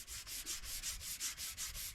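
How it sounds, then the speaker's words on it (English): Hand sanding of a fibreglass body for a BSA Bantam motorcycle racer: steady back-and-forth rasping strokes, about nine in two seconds, close and loud with no voices. "just got to keep sanding"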